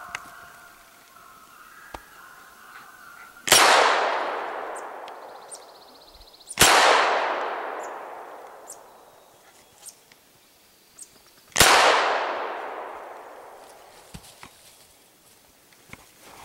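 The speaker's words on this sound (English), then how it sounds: "Took me enough shots" Three loud gunshots from a snowshoe hare hunt, spaced several seconds apart, each a sharp close crack followed by a long rolling echo that fades into the quiet outdoors, with faint rustling between shots.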